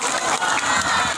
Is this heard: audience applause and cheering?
yes